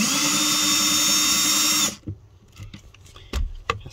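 A power drill whines loudly and steadily as it backs screws out of a wooden board, then cuts off abruptly, leaving a few soft knocks and handling clatter close by.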